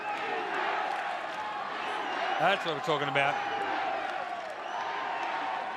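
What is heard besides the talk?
crowd cheering at a women's football game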